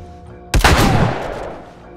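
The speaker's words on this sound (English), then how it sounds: "I might just pop out and shoot him." A single loud gunshot in the video game The Last of Us Remastered, sharp and close, with a booming tail that rings out and decays over about a second and a half.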